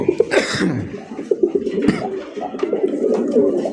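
A large Tiger Gola male pigeon coos in short throaty bursts close by, with rough, cough-like notes mixed into the calls.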